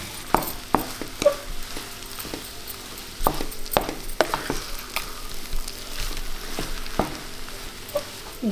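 Spiced mashed potato masala stirred and fried in a pan for vegetable cutlets: steady soft sizzling broken by repeated sharp scrapes and taps of a spoon against the pan, close and without talk.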